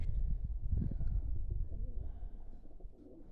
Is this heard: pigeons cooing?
yes